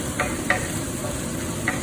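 A steady sizzle of laksa curry paste frying in a pan, with a few soft stirring scrapes cutting through the continuous hiss.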